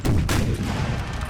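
Cannons fire in the video game Napoleon: Total War, two loud, heavy booms in quick succession at the start, followed by a rumbling tail of battle noise.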